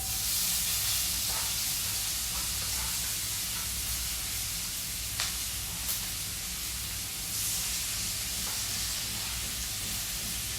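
Garlic and onion frying in hot oil in a home kitchen, giving a steady loud broadband hiss throughout with a few brief pops and crackles, no talking.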